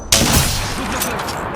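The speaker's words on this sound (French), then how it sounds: "J'ouvre le feu." Gunfire in the Apex Legends video game opens with a sharp loud onset, then sustained rapid shots run on at close range, with faint talk mixed in beneath.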